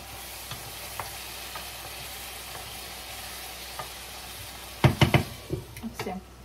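Food sizzles softly in a pan with a low, constant hiss. Near the end comes a short burst of louder knocks and clatter.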